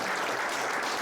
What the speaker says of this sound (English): let's give the Honorable Minister a round of applause